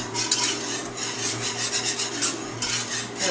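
Whisk rapidly scraping and clinking through chicken broth sauce in a pan for a broccoli casserole, a busy continuous rhythmic rasp, close and moderately loud, with no voices.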